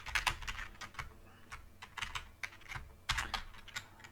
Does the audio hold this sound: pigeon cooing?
no